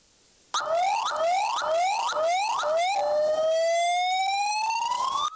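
Loud, close police siren in Abuja, Nigeria: a few rapid rising yelps, then one long wail sweeping slowly upward, with nothing else audible.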